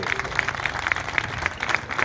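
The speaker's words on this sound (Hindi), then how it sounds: "आप सबकी जोरदार तालियों की बरसात चाहिए।" A crowd applauds at a statue unveiling ceremony for Dr. B. R. Ambedkar, a moderate, steady clapping heard from nearby with a few sharper claps standing out.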